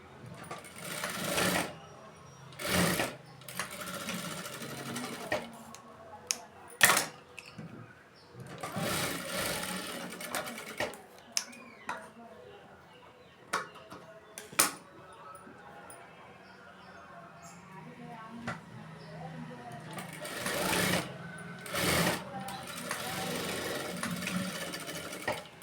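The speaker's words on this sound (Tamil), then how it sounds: "ஓரத்தில் தையல் போடுறது என்ன பண்ணுன்னா சுருக்கம் இல்லாமல் தையல் போடுங்க, சுருக்கமே வரக்கூடாது சரியா" A sewing machine stitches the side seam of a blouse in repeated short, loud bursts of rapid whirring separated by quiet pauses, with faint handling noises between runs.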